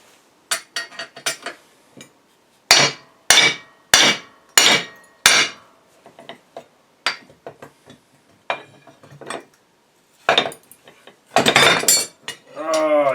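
Sharp metallic hammer blows striking a stuck die casting in irregular bursts, loud and close, some ringing briefly, with a drawn-out groaning sound at the end.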